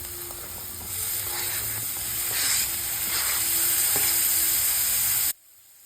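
Capsicum going into a pan of sautéed onions for Mumbai-style pav bhaji, giving a steady, close sizzle and hiss that swells slightly, then cuts off abruptly near the end.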